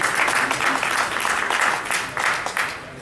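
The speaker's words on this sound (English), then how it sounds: "Clap hands for this organization." An audience claps hands for an organization at an entrepreneurship training event, a steady wash of many hands clapping close by throughout, slightly tapering at the end.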